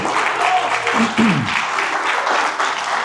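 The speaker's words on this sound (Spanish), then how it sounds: "Un fuerte aplauso a Manolo en este momento." Applause from a church congregation, a burst of clapping with some voices mixed in, fairly close and loud throughout.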